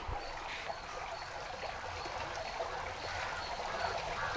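Water drains steadily from harvested spirulina through a filter cloth, a continuous soft trickling and pouring with no pauses, close and moderately quiet.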